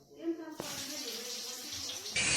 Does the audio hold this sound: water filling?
yes